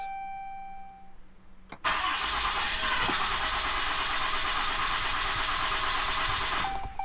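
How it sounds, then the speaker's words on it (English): After a faint hum and a click, the 6.7-litre Cummins diesel engine of a Ram pickup truck cranks and fires up abruptly after a fuel filter replacement, then runs at a steady, loud idle for several seconds. "I'm going to go ahead and attempt to start it."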